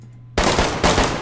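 Heavy sniper rifle fire from a Barrett in an online shooter game: after a quiet start, a loud sharp shot bursts in, followed by a few more booming reports with ringing echo tails.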